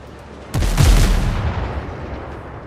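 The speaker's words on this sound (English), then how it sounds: "Might be safer to take these out with cannon fire." A single heavy ship cannon blast in the naval video game Windrose, a loud sudden boom with a rumbling tail that fades over about two seconds, heard alone without talk.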